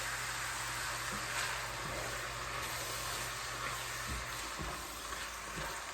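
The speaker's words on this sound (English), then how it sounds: "now into this I'm going to put a can of crushed tomatoes" Crushed tomatoes from a can hit a hot pan with a steady, loud sizzle that fills the scene, broken by a few low thuds near the end, with no talking.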